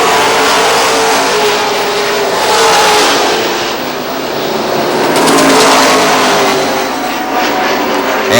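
Pro stock race cars roar around the oval at Lee USA Speedway in New Hampshire, a loud, continuous engine drone that swells and fades as the pack passes, with no talking heard.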